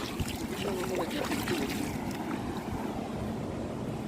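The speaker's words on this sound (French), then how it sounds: "J'aime trop les petits courants d'eau là" Small streams of water trickle and wash across a beach in a continuous, even rush, with wind noise blended into the steady flow and no talking.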